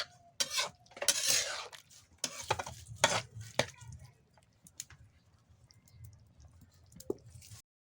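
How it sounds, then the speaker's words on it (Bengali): Kolur dal bori curry with potatoes stirred in a pan with a spoon, irregular scraping and clinking strokes in bursts, quieter toward the end, close and fairly soft. "এবার একটু নাড়াচাড়া করে নেব।"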